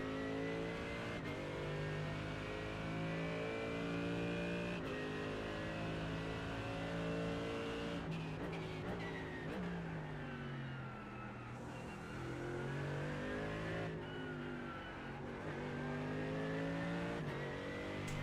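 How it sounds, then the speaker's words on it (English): Mercedes-AMG GT3 race car engine in iRacing, revving steadily with rising and falling pitch through gear changes, loud and continuous with no talking. "Now we reached a point where he definitely can hear my engine sound."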